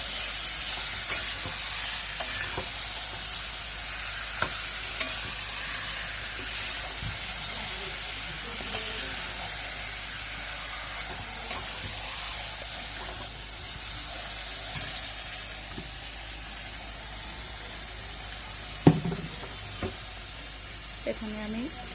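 Marinated chicken and biryani ingredients fry in a pan with a steady hiss and sizzle, stirred one-handed with occasional scraping clanks and a sharper knock near the end.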